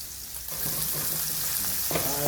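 Minced meat sizzling and frying in a hot pan for a bok choy and meat stir-fry, a steady close crackle with occasional stirring scrapes, no talk.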